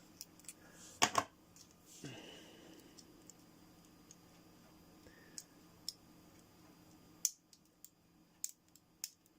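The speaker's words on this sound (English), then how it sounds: "I think I'll go back to the scissors." Sparse, sharp snipping clicks of scissors cutting 3D-printed plastic drone prop guards, a few isolated cuts spread irregularly through otherwise quiet surroundings.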